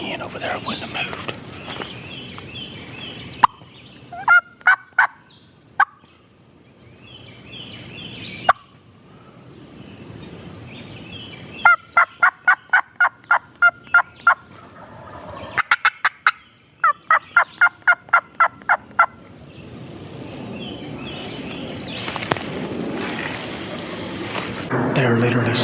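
Wild turkey gobblers in a flock gobble in sharp, rattling bursts from Georgia woods, several calls close and loud with quieter stretches between, joined by rustling and hushed whispering nearby.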